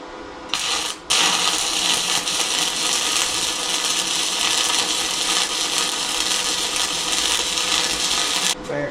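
VEVOR welder stick welding with a 1/8 inch 7018 rod at the top setting, a loud, close, continuous crackling sizzle that starts after a brief sputter and runs steadily until it stops near the end.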